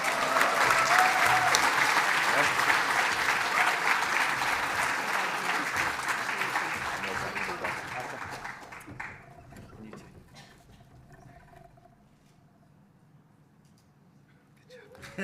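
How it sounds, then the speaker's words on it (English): Sustained applause from an awards ceremony audience at a volunteering awards event, loud and dense for about nine seconds, then thinning into scattered claps and fading to quiet. "a big round of applause"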